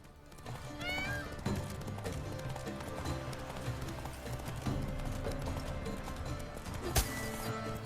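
Roach, the horse from The Witcher 3, galloping in a steady clip-clop rhythm over a dense, loud game soundscape of music and effects, with a sharp impact near the end.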